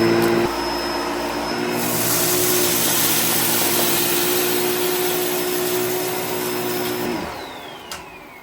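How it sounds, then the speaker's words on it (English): A Bissell Pet Hair Eraser Turbo vacuum cleaner runs on carpet with a loud, steady motor whine and brush-roll hum that holds for about seven seconds before winding down, with no talking. "Let's see how well the Bissell Pet Hair Eraser works on carpet."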